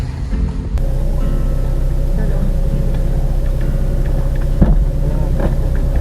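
A car slows down on a badly broken rough road, with a loud, steady engine drone and a few jolting bumps, including a sharper knock near the end.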